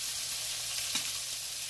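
Burgers frying in a pan of grease give a steady, soft broadband sizzle with one brief louder crackle midway, heard alone without talk.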